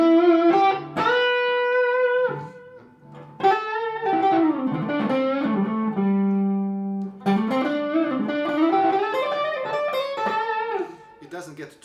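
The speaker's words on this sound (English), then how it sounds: "I put some treble bleed if I want to play distortion like this." A Gibson guitar fitted with MiniHB pickups, played through distortion with a treble bleed, gives sustained overdriven chords and riffs in close, loud phrases with brief gaps between them.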